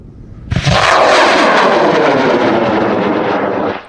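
A high-power water and pyro hybrid rocket motor ignites with a sharp bang, then roars loud and close for about three seconds before tapering off.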